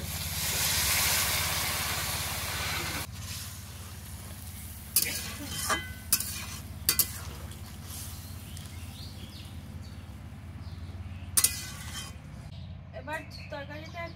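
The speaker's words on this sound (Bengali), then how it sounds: "এবার জল দিয়ে দেবো।" Water is poured into a pan of spiced pumpkin and potato frying in a village kitchen, setting off a loud, hissing sizzle that calms into a steady, quieter bubbling, broken by a few sharp clinks of stirring.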